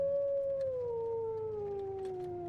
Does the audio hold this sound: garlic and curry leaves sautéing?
no